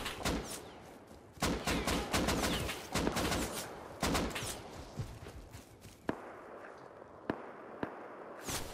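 AK rifle fire in a raid-and-PvP survival shooter video game, loud rapid bursts in several clusters, then slower single shots spaced apart, with no talking.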